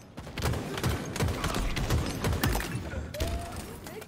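Rapid, loud gunfire bursts in Halo Infinite ranked play, continuous volleys of shots close up, with a player talking over them.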